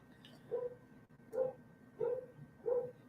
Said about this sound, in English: Neighbor's dogs.